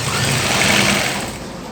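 Sewing machine stitching a facing strip on a women's lined shirt, a loud close continuous high-pitched whirring hum that holds steady and eases slightly toward the end, with no talk over it.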